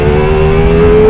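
A Ducati Multistrada V4S motorcycle's V4 engine revs hard in sport mode, a loud, steady, sustained roar held close to the rider with no break across the clip.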